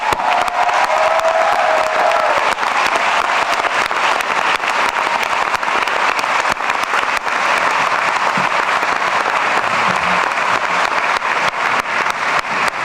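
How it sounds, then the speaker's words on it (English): A large crowd at a university doctoral commencement ceremony applauds steadily and loudly, dense clapping filling the whole stretch with a few faint cheers mixed in. "Now let's give them a round of applause"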